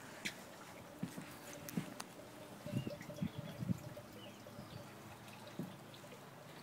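Garden waterfall feature running, a faint steady trickle and splash of water with scattered soft drips and small knocks close by, no talk.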